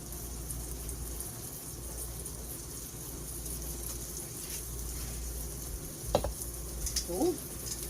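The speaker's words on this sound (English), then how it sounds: "You can just hear a sizzle coming out of my shrimp now" Shrimp sizzling in melting butter in a pan, giving a steady, soft frying hiss throughout with a couple of brief clinks near the end.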